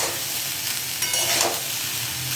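Boiled, salted rice for fried rice being stirred in a hot pan, giving a steady, loud sizzle and crackle from start to finish with no voices.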